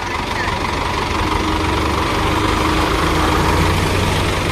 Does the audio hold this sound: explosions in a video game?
no